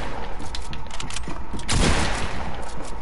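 A PS4 video game's gunfire crackles as a dense, loud burst of rapid shots, peaking in a heavier volley about two-thirds of the way through.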